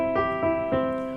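A major chord is struck three times in quick succession, each bright, sustained chord ringing clearly and close, with no talking.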